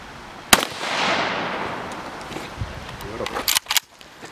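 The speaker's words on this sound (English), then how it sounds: "Okay, second shot. AK-74, 25 meters." An AK-74 rifle fires at a hard body armor plate from 25 meters, giving a sharp, loud crack followed by a rolling outdoor echo, then a few more close snaps and thuds near the end.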